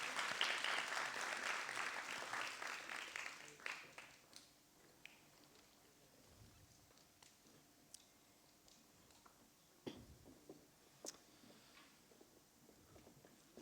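An audience at a French award ceremony claps loudly for a few seconds, then the applause fades to sparse scattered claps and small knocks in a quiet hall.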